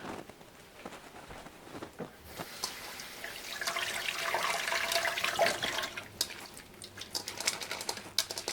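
A tomato washed under a running kitchen tap, a close, steady rush of flowing water with splashy surges that starts after a couple of seconds of quieter handling sounds and continues to the end.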